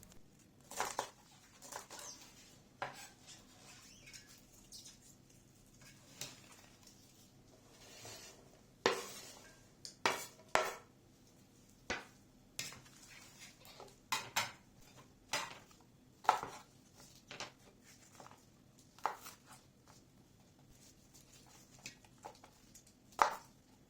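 Irregular knife taps on a cutting board as peppers are chopped, some clustered in quick runs, with occasional dish clatter; close by, no talking.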